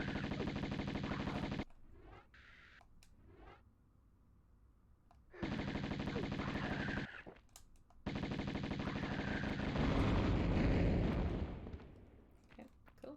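Gunfire from the video game Tomb Raider, loud bursts of rapid shooting in three blocks separated by quieter game ambience, with the last burst the densest and longest.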